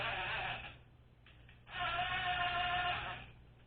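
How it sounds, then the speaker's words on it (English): A screw gun drives camshaft screws in two whirring bursts, a close steady buzzing motor tone with a short pause between runs. "Now I'll run them in using the screw gun."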